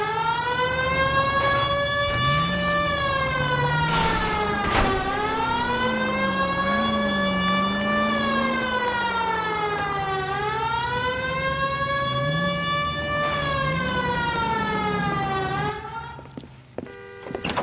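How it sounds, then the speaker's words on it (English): A wailing police car siren in the video game L.A. Noire, rising and falling in long sweeps that hold loud and steady throughout, with a low engine hum underneath. "Hit the siren."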